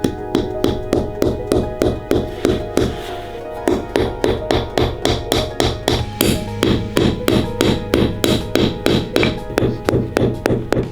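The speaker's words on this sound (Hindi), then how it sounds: "यहाँ के लोग जरूरत पड़ने पर जमे हुए फलों को हथौड़े की तरह भी इस्तेमाल कर सकते हैं।" A frozen banana, rigid from deep cold in Yakutsk at about -55 °C, is used as a hammer, striking a hard surface in a steady series of loud, sharp, evenly spaced knocks close to the mic.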